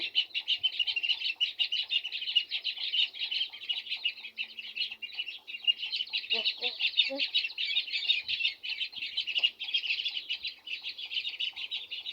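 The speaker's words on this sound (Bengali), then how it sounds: "যে আমাদের হাঁসের বাচ্চা মুরগির বাচ্চা" Ducklings and chicks peep continuously in a dense, high, steady chorus throughout, close by, with a few brief low clucks partway through.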